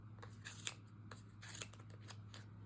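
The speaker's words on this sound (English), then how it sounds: "We're going to take our scissors, and you're going to go into the back here. There's a little section that you can pop your needle into, and you're going to cut across." Sharp scissors snip through knitted yarn fabric made on a bulky knitting machine, several quiet close cuts in an uneven rhythm over a low steady hum, with no voices.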